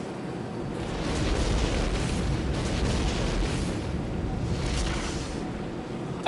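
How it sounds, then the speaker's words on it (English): A building blowing up in a Die Hard Trilogy game-over cinematic, heard as a sustained roaring rumble of explosion and debris, loud and continuous with surging swells, no speech. "end cinematic game over scene where the building's getting blown up"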